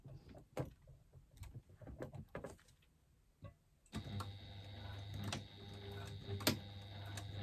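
A sewing machine back-stitching at the start of a seam: a few quiet clicks and taps, then the motor starts and runs in a steady, moderately loud whirring hum with rapid needle ticks.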